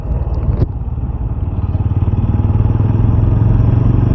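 A motorcycle rides along a road, its engine droning steadily and loud throughout, with a brief clatter near the start and no talk over it.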